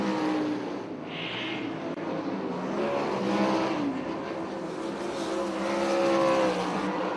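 Race cars run on the BAPS Motor Speedway dirt oval in York Haven, Pennsylvania, a steady loud engine roar that swells as the cars work off turn four, with a faint crowd or announcer wash beneath.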